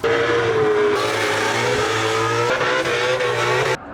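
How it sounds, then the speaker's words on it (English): Several Ford Mustang engines roar and rev hard nearby at SEMA 2021, pitch rising and falling continuously with a whistling, howling edge, loud and with no talking. "Can you hear those Mustangs just going crazy over there?"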